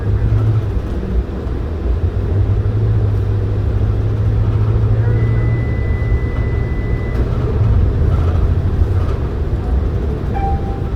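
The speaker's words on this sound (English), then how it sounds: "It's probably beeping at you" A 2014 New Flyer XD60 articulated Calgary Transit bus sounds a warning tone for a joint failure fault, a sustained electronic beep and a later short chirp over a loud, steady engine and road rumble inside the bus.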